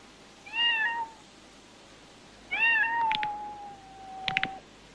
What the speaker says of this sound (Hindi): जिसमें एक वो बिल्ली होती है, वो 3 टाइम्स बोलती है अपना